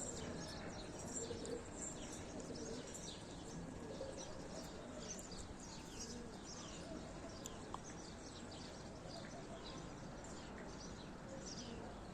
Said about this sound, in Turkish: evet diğer kuşlar da toplanmaya başladı.